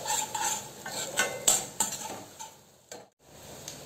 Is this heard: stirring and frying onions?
yes